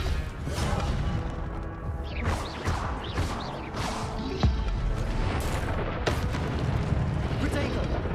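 Fiery Incendio spell effects in Hogwarts Legacy, a dense run of whooshing blasts, crackling bursts and booming impacts layered over continuous game noise, with a voice calling out spells.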